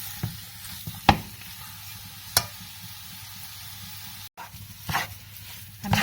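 Grated carrot halwa stir-fried in ghee, a low sizzle in the background broken by several sharp spoon scrapes and knocks against the pan, with a faint dog bark.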